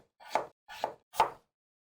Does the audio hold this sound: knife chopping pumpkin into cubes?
yes